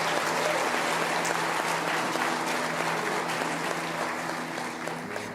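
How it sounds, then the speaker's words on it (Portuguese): Church congregation applauding during a worship service in praise of Jesus, a dense, steady wash of many hands clapping that fills the whole stretch and fades slightly toward the end. "Pode aplaudir a Jesus"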